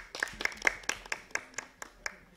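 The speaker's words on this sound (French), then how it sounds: "Applaudissez pour elle." Scattered applause from a classroom of students clapping for a classmate, a handful of sharp uneven claps spread across a couple of seconds, moderately close with faint voices underneath.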